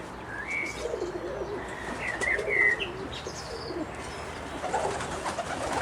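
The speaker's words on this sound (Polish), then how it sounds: "Przejdziemy tutaj do ptaszków, gdzie jest ich dość duża ilość" Russian Statnyje pigeons, Omsk and Siberian breeds, in a loft among rhododendrons and azaleas, giving soft coos and scattered chirps at moderate distance over a low steady background.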